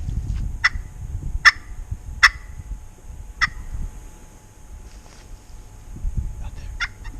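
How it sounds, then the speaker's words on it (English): Wild turkeys gobble on public land along a creek, five or six sharp rattling calls, some near and some farther off, over a low outdoor rumble and soft movement noise. "back towards where those other ones are gobbling now"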